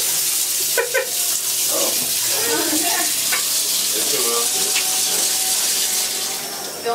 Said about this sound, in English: Filming a shower?